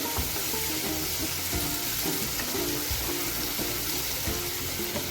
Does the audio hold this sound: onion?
yes